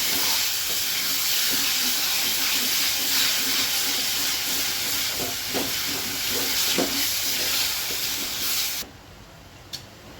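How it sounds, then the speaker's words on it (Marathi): Bombil fish gravy simmers in a pan after water is poured in, giving a loud, steady steamy hiss with a few crackling pops. The hiss cuts off sharply near the end. "आपली ग्रेव्ही जळून जाऊ नये म्हणून आपण थोडंसं आज पाणी टाकणार आहे"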